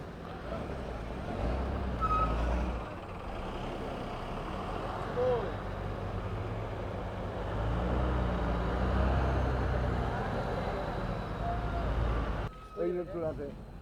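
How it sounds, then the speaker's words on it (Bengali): Trucks arriving from India roll through the Hili border crossing between India and Bangladesh, giving a low, steady engine rumble with passing traffic. A person talks over it almost throughout. "এই ট্রাকগুলো ইন্ডিয়ার থেকে আসতেছে।"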